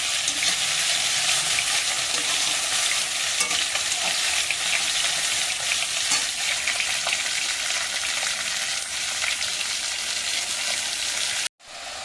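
Fish and okra sizzle and crackle in hot oil in a pan, a steady close frying hiss lasting almost the whole stretch before cutting off abruptly at the end.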